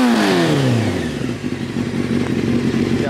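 A motorcycle engine revs hard at close range, then settles into a rough, clattering idle.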